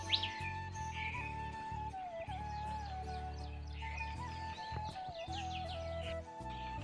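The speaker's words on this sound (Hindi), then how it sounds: "चिड़ियाओं की प्यारी प्यारी सी आवाज़ और सूर्य भगवान उगते हुए।" Small birds chirp and tweet in quick bursts on a morning at sunrise, their calls moderately close over a steady low hum and a thin sustained tone, with no one speaking.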